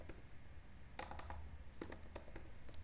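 Code being typed on a computer keyboard during an Angular programming lesson, with scattered quiet key clicks in short bursts over a low room hum, close and faint, no one talking.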